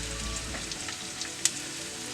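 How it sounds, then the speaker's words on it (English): Semolina (rava) fries in a pan with a steady close sizzle and a faint scrape of stirring, one brief sharp tick partway through, no voices. "So I have been frying the semolina for around 2 minutes."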